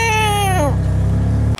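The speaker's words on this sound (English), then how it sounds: "Oh, baby kitties." Kittens meow in a string of high, tonal calls that glide downward, loud and close over a steady low hum, then the sound cuts off abruptly.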